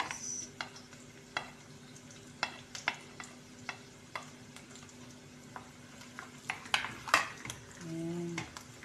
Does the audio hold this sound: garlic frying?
yes